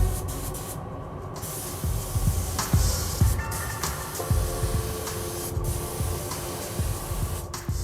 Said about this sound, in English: We're going to have to go ahead and place this panel up here and spray it out now and check for craters